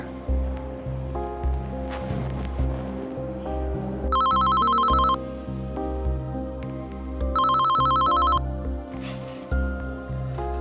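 An outgoing phone call rings out in repeated tonal bursts of a ringtone over a steady background of music and rustle, two clear ring cycles spaced a few seconds apart.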